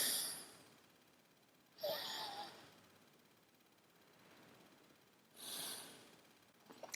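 Two soft, airy breaths drawn in through one nostril during a yoga-style alternate-nostril breathing practice, each a short hissing inhale separated by quiet, close and faint with no talk.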